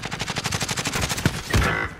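Rapid automatic fire from a MAC-10 in an urban online shooter game, a loud, fast, evenly spaced rattle of shots lasting over a second, then a heavier burst and impact noise.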